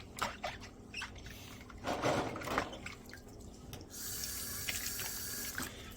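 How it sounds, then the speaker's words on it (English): Canning jars rinsed under a running kitchen tap, with steady water splashing into a sink, brief clinks and drips early on, then a fuller, continuous stream in the second half; no talking. "Make sure you rinse them off real good."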